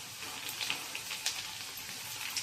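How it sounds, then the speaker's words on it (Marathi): Fresh green chillies hit a hot pan and sizzle faintly, a soft continuous crackle dotted with small sharp pops. "आता ही ओली मिरची टाकणार आहे."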